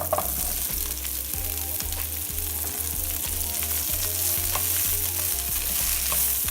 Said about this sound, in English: so now we're going to add our vegetables